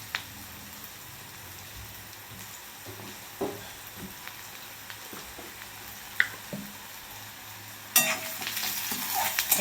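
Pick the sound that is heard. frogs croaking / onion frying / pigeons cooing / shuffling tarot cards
onion frying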